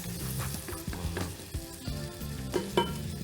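Butter and spring onions sizzle in a frying pan while being stirred, a close steady crackle broken by repeated scraping strokes of the utensil, with no talk.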